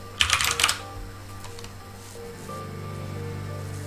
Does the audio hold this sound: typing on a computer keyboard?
yes